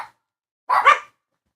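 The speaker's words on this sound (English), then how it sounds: "Oh, so here goes my dog." A pet dog barks once at home, a short, close, fairly loud woof with a doubled burst, surrounded by silence.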